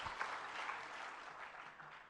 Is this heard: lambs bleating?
no